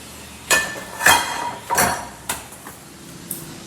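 A metal pan handled in a home kitchen, giving a series of sharp clanks and knocks at irregular intervals, the first few louder and ringing, then lighter taps trailing off.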